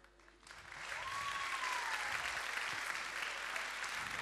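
A Turkish TV talk show studio audience breaks into sustained applause, rising quickly after a quiet start and holding steady and full, a dense wash of many hands with a faint tonal whistle-like sweep briefly over it.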